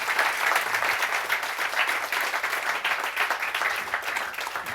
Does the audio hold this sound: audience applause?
yes